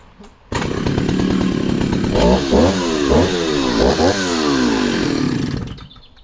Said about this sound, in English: So we'll take 3 discs with the Racket, roughly, just some slithers. Take 3 discs with the Husky